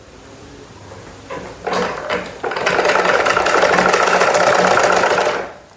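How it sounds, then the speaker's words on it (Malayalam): Sewing machine stitching cloth after the needle is lowered by hand wheel, starting with a few hesitant clicks then running into a loud, steady rapid whirring hum for several seconds before stopping. "നൂലിനെ പിടിച്ചു സൂചി ഹാൻഡ് വീൽ കറക്കി സൂചി താഴ്ത്തി നമ്മൾ തയ്ച്ചു തുടങ്ങുവാണേ"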